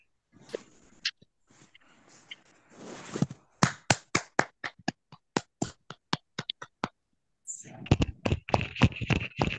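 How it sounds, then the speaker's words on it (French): Scattered participants clap over open microphones on an online call, separate sharp claps in an uneven rhythm, then a denser burst of clapping near the end, with some talk at the start. "valider cet ordre du jour par acclamation"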